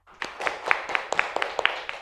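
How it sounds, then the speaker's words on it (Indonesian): A school class claps for a student, a short round of scattered hand claps in an indoor classroom, fairly quiet and loosely in rhythm. "tepuk tangan untuk Mbak Kansa"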